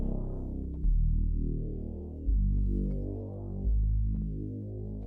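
A soft analog bass preset from the Xpand 2 synth plugin plays alone, three sustained low notes, each swelling in with a strong attack and slowly fading, warm and rounded with little upper content.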